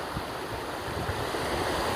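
Fast-flowing river water at a natural fishing spot in South Korea, a loud, continuous rushing roar with no pauses and no voices.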